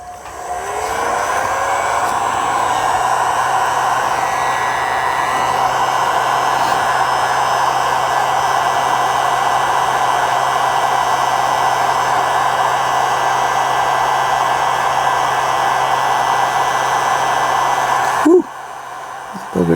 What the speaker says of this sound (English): This is a huge heat gun.